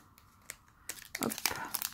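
A Pokémon XY Evolutions booster pack being torn open, with crinkling foil wrapper and a few sharp ripping bursts, close up, growing louder toward the end.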